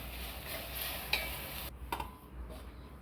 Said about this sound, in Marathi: गूळ टाकला का थोडंसं पाणी टाकायचं एक चमचा भर आणि चांगला हलवून घ्यायचं